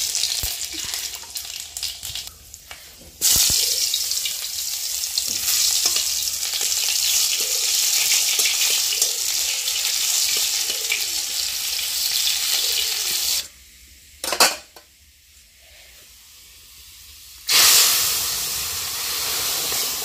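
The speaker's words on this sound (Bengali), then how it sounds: "ডালটা সম্বাদ দিয়ে দিই, তারপরে সবজিগুলো রান্না করব।" Boiled dal is tempered with hot spiced oil in a home kitchen, giving a loud, steady frying sizzle and hiss that runs continuously with a few sharp stir-and-pour bursts. No one speaks.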